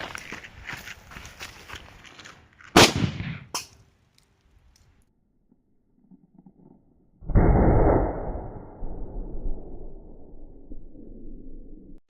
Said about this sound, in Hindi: मैंने मिर्ची बम और चॉकलेट को इस गिलास के अंदर डाल दिया है। अभी गाइस लगाते हैं मिर्ची बम में आग।